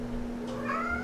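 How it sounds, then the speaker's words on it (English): A house cat meows once, a short rising cry near the end of the second, heard fairly close over a steady low electrical hum in a quiet room. "You can hear my cat is meowing."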